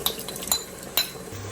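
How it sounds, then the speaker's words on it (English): Chopped tomato stirred into prawn curry sauce in a pressure cooker, with three light utensil clinks against the pot, spaced evenly and close up, over a quiet background. "Now mix the tomato with the sauce."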